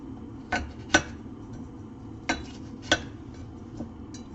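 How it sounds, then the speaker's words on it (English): A knife chops vegetables into big dice on a board, producing a handful of separate, crisp knocks spaced irregularly against a quiet background. "maybe I'll like cut them in half"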